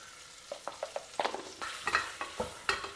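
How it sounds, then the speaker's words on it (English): Onions and masala with turmeric and sambar powder fry in oil as a spoon stirs them in a short run of brisk scraping strokes over a soft sizzle. "Now mix it all again well together so that the masalas and the onions are well coated and well fried together."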